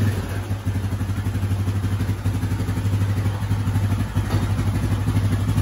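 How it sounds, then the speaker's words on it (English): A 2003 Yamaha Grizzly 660 ATV mud bike, bored to 700 and in four-wheel drive, runs with a steady low throbbing engine rumble and some clatter, close and continuous with no talk. "2003 Grizzly 660. This bike is bad, boy."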